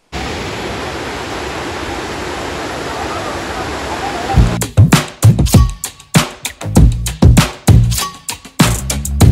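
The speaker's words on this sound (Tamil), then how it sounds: "ஓ தண்ணியில சத்தம் கேக்கு" Rushing water of the Eruma Chavadi (Mekkarai) falls, a loud continuous roar for the first half, then broken by close bursts of talk and handling noise that interrupt it.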